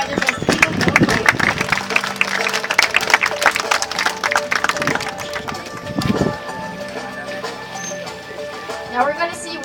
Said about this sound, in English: don't hesitate to give the dolphins a very big applause, ladies and gentlemen